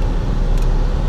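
A car stuck in snow during a heavy snowstorm, one wheel spinning freely, giving a steady loud low rumble of engine and tire noise throughout, with no talking.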